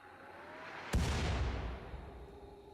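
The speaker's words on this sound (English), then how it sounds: "And I hate mortars." Mortar fire in the video game Rimworld: a single sharp blast lands about a second in, then a long rumbling decay trails off over a faint steady background.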